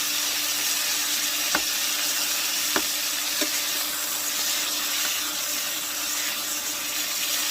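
A T-bone steak frying in a hot pan after being turned, a loud steady sizzle that fills the scene, broken by a couple of sharp utensil taps.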